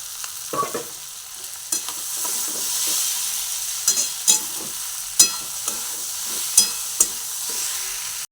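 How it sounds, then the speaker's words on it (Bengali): Vegetables for chowmein fry in a pan with a steady sizzling hiss, broken by repeated scraping and clacking strokes of a spatula as the food is stirred. "সবজিগুলো ভাজছি"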